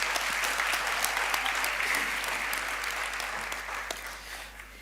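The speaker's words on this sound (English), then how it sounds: "Let's give them a round of applause for success." Audience at a university autumn graduation ceremony for a science and agriculture faculty applauds steadily, a dense wash of clapping in a large hall that slowly tapers off.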